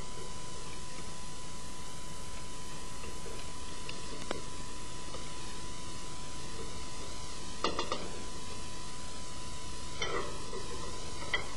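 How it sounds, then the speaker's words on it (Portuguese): Chopped onion softening in a hot pan for a squid dish makes a steady, even sizzle throughout, with a few faint stirring clicks and scrapes. "E adiciona-se o resto da cebola picada, deixando refogar sem ganhar cor"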